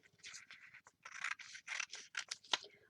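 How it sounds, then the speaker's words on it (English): Scissors snip steadily through black and orange pieces, a quick series of close, crisp cuts with short pauses between them and one sharper snip near the end. "So I'm going to trim out or cut out black and orange."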